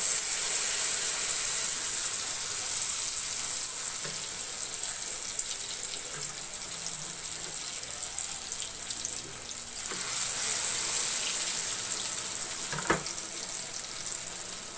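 Eggplant for tortang talong fries in hot oil in a pan, a steady bright sizzle throughout with a brief louder crackle near the end, no talking.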